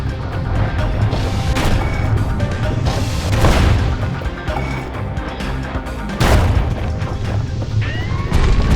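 Grenade blasts in the Bastion video game, a dense run of booming explosions and crashes that keeps the mix loud for several seconds, with sharp bursts near the middle and toward the end.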